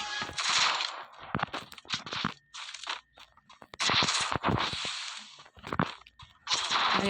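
A Thompson submachine gun fires in a shooter video game, loud rapid bursts of crackling shots separated by brief pauses, close and dominant with no talking over them.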